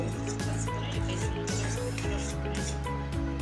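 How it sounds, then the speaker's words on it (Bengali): Saffron-soaked milk is poured into a pot of thickening milk for lassi, making a continuous liquid trickle and gurgle with soft bubbling over a constant low rumble. "এই তো আমি এই দুধটা অ্যাড করে দিচ্ছি"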